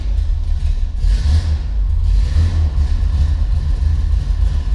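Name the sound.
1974 Corvette L82 engine cold start and idle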